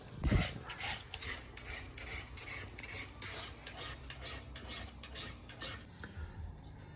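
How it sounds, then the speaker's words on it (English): A file rasps across the depth gauges of a chainsaw chain during square-ground sharpening, a quick series of close, scratchy metal strokes in a regular rhythm that stops near the end. "filing the depth gauges fresh"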